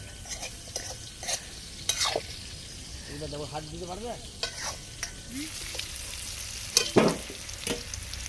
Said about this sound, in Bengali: আলু ভাজা কমপ্লিট